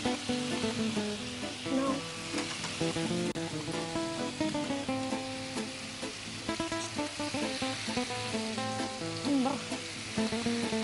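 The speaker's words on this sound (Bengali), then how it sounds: "এবার মাছগুলো ছাড়বো।" Fish sizzling and frying in hot oil on a Bengali kitchen set, a steady loud crackle with bursts of spitting throughout, and brief speech over the top.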